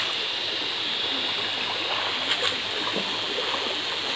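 Cold, clear creek water flows in a steady, loud rush at a natural pool used for swimming, with a faint splash partway through and no voices.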